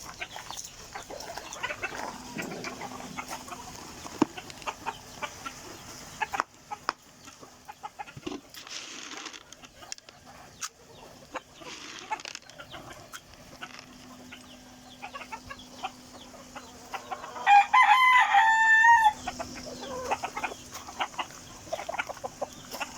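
Backyard chickens at a morning feeding give a run of clucks and a brief burst of louder squawking or crowing, all fairly near, over steady faint background noise.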